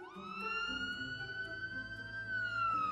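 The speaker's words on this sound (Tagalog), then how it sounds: "Kaagad namang dumating yung ambulansya." An arriving ambulance siren sounds as a sustained electronic tone that sweeps slowly, moderately loud and continuous over a low background rumble, with no talking.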